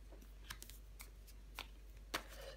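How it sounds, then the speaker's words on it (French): Tarot cards being handled and laid over one another on a table, giving a few soft, brief papery flicks and slides scattered across a quiet background, close and faint. "On va recouvrir les cartes."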